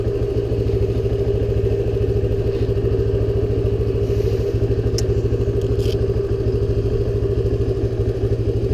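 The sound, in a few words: 1978 Honda XL175 motorcycle engine idling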